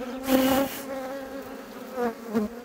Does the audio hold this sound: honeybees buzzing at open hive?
yes